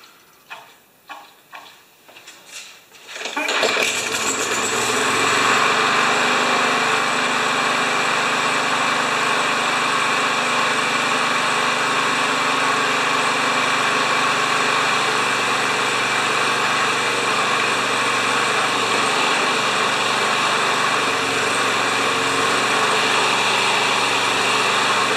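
A few pulls and sputters, then a small Yard Machines lawn mower engine catches and runs steadily at a loud, buzzing idle for the rest of the clip.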